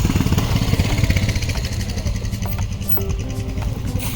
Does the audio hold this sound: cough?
no